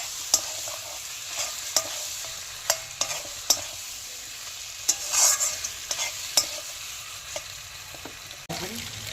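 Potatoes are stirred into mutton kosha in a pan, a spoon scraping and knocking against the metal in irregular strokes over a soft frying sizzle, close and moderately quiet.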